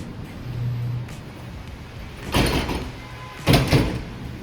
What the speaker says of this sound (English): This door does not work.